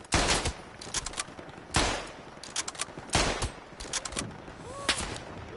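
Gunfire in the WW1 shooter Tannenberg: sharp rifle shots crack out at roughly regular intervals, each followed by a rolling echo, with scattered distant fire in between and no talk.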